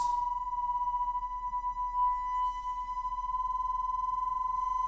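Two nearly matched pure tones in a tuning demonstration pulse against each other, the wobbling beats quickening until they settle into one steady, clean sustained tone, faint and unaccompanied.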